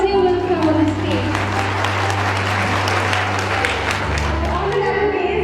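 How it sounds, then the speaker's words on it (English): An audience at a public speaking and Scrabble competition in Balochistan breaks into sustained, dense applause, steady and loud throughout. "will give us the report about this Scrabble in your huge round of applause."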